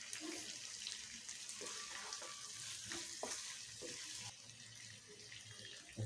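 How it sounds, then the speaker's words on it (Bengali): Chicken pieces sizzle in spice paste for chicken korma, a steady close hiss with occasional spoon scrapes and stirring bumps, plus a brief watery splash near the end. "মশলার সাথে মাংসটা কষিয়ে নেব।"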